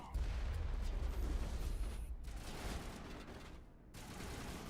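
Video game gunfire from Mass Effect rattles in rapid bursts and volleys, fairly dense and continuous, broken by two brief gaps of near silence. The level is quiet overall and no voices are heard.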